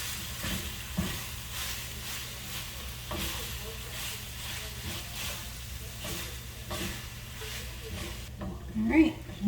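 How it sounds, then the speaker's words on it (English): Hamburger and refried beans cooking together in a pan, a steady low sizzle and hiss with repeated stirring scrapes at an even pace, a voice talking quietly over it, and a brief louder clatter near the end. "I'm going to go ahead and add the can of the refried beans. We're going to cook this until it's all well blended together"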